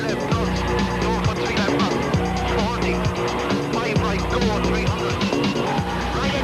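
Rally car on a Donegal Rally 2005 stage, driven hard on the limit after a gearbox change, its engine roaring steadily with shifting revs and tire noise throughout, a commentator's voice running over it.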